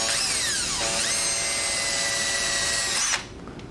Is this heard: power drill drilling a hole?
yes